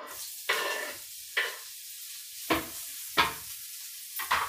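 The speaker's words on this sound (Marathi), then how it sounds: "कांदा घालत आहे." Onion frying in a pan for a ridge gourd dish, heard as five separate loud sizzling bursts as it is stirred or added, each dying quickly into near silence between them.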